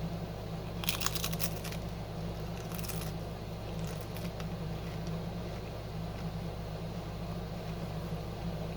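A tortilla chip topped with egg scramble is bitten and chewed close to the mic, giving a few short crunchy bursts early on over a steady low background hum, then quieter chewing.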